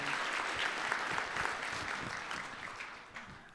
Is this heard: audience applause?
yes